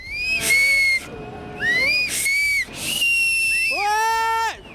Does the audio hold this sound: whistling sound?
yes